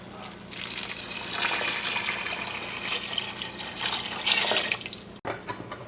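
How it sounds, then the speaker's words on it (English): Water pours from a vessel into a pot of browned meat and lentils for a Moroccan dish. The splashing is steady and full for about five seconds, then cuts off abruptly, with no one speaking. "And you also want to add 4 cups of water."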